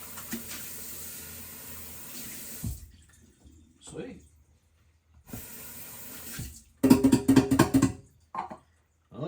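Water runs from a tap into a sink for washing, in broad hissing stretches broken by silent gaps. A brief voice and some clattering come near the end.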